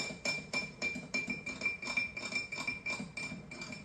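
An apple cider vinegar mixture is stirred in a glass, giving steady, rhythmic clinks about twice a second, close and fairly quiet, with no talking.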